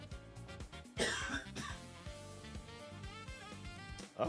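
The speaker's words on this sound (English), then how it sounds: "That was a nice little cough there." A single cough with some throat clearing sounds at moderate volume, with background music continuing underneath.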